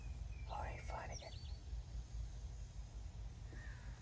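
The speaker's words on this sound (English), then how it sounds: "the blackbirds are here" Blackbirds call around a family campsite in the early morning. A quick cluster of harsh calls comes first, then one fainter call later, all moderately distant over a steady low background rumble, with faint murmuring.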